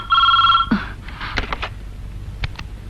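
A telephone rings with a loud electronic trill for about half a second, then a clunk as it is picked up, followed by soft handling knocks and taps.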